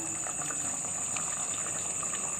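Tamarind sambar simmering in a pot, a steady low bubbling hiss with soft irregular pops under a constant high-pitched tone, no voices.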